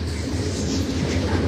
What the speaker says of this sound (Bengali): দর্শক দেখতে পাচ্ছেন ট্রেনে ইঞ্জিন যাচ্ছে, ঢাকার উদ্দেশ্যে রওনা হবেন।